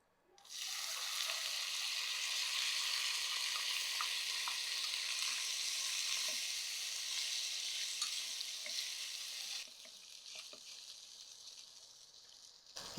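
Soaked sago pearls hit a hot pan for masala upma and set off a steady, hissing sizzle that holds for several seconds, then drops to a quieter frying crackle with a few soft stirring clicks.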